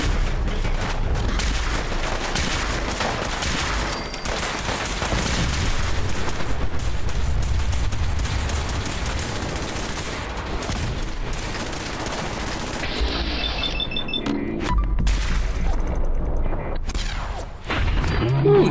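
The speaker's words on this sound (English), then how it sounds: "The cannons are ready. Fire at will. Broadside the traitors." Repeated cannon broadsides from the video game Fallout 4, a dense rolling barrage of loud booms and gunfire that continues for most of the stretch, with game dialogue mixed underneath.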